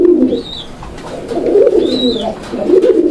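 Fancy pigeons at a sale coo loudly and close by in repeated rolling phrases, with a few thin high chirps mixed in between the calls.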